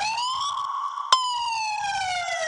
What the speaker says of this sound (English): When the lights go on and the sirens go off